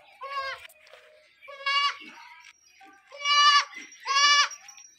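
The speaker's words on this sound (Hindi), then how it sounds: "बहु ही जबरदस्त बकरी" Goats bleat in four loud, close, harmonic-rich calls spaced about a second apart, with short quiet gaps between them and no talking over the calls.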